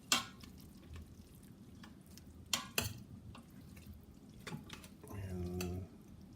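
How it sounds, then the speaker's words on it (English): Cooked jambalaya rice stirred in an Instant Pot, giving soft scraping and a few sharp spoon knocks against the metal inner pot, with a brief louder stir near the end, close and fairly quiet. "So we'll stir it up."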